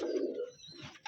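A pigeon coos once at a pigeon farm in Rajshahi, a short low rolling call close by, fading into quiet.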